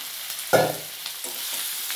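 Pre-fried fish heads drop into a hot pan with ginger, cumin and pepper paste, giving a sharp sizzling splash followed by softer crackling and a few light stirring scrapes, close and without voices.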